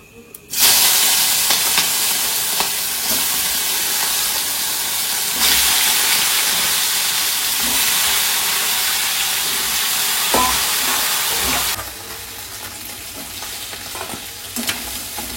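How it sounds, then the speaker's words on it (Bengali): Crabs seasoned with salt and turmeric fry in a pan, a loud continuous sizzling hiss that holds steady, briefly swells, then eases and softens near the end. "তো কাঁকড়াগুলি কিন্তু সম্পূর্ণভাবে ভাজা হয়নি, হয়েছে ভাজা, আধা ভাজা।"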